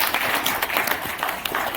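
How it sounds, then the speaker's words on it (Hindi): Hearty audience applause at a real estate investment event, a fairly close, continuous patter of many hands with a few louder individual claps. "आपके लिए जोरदार तालियां होना चाहिए।"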